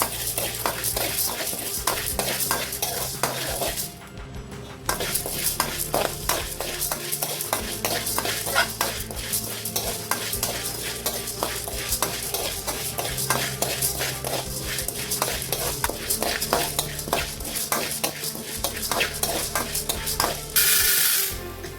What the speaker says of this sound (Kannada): ಈಗ ಕಡಲೆಬೇಳೆ ಫ್ರೈ ಮಾಡುವ ಇದರಲ್ಲಿ ಇನ್ನೂರು ಗ್ರಾಮ್ ಉಂಟು ಇದನ್ನು ಕೂಡ ಪರಿಮಳ ಬರುವವರೆಗೂ ಚೆನ್ನಾಗಿ ಫ್ರೈ